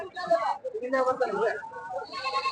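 Lambs bleat repeatedly at the Sindhanur sheep market in Karnataka, a cluster of sixteen young animals calling close by in overlapping wavering cries with short gaps between them.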